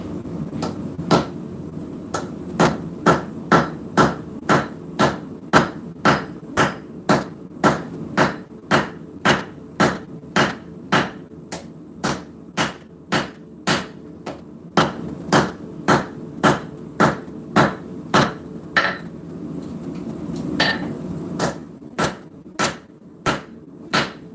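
Steady, evenly spaced hammer blows on hot metal at a forge, drawing out and stretching the stock, about thirty sharp ringing strikes close by, some with a light bounce between them.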